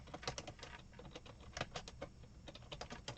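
Quick, irregular clicks of fingers typing on a computer keyboard, fairly faint and steady throughout, with no talking.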